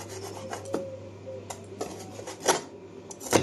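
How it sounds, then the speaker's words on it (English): A kitchen knife cuts food into small pieces for fried rice, making scattered scraping and tapping sounds against a board with uneven gaps and one or two sharper knocks, close and fairly quiet. "Make sure your knife is sharp enough to cut this."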